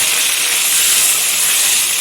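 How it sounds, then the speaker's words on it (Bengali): Potatoes frying in hot oil in a pan for a Bengali cauliflower curry, a steady, close, loud sizzling hiss that runs unbroken from start to finish with no talking. "এখন আমি আলুটা ভেজে নেব সুন্দরভাবে"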